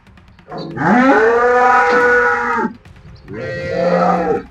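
HF cows in a herd: two long, loud, close moos with a short pause between them, and the second call is somewhat shorter.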